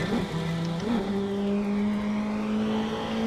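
Race car engine in an online racing video game, a loud sustained drone that shifts pitch early, then holds a steady high whine as the car accelerates, close and without talking.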